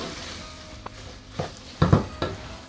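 Rice frying in a pan for a rice-and-beef dish, stirred with a utensil: a low, steady sizzle broken by several short scraping strokes, the loudest bunched near the end, with no one speaking.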